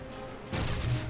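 A single heavy cannon blast from warship guns in the naval combat game From The Depths, a sudden loud boom that rolls into a rumbling tail over a low background.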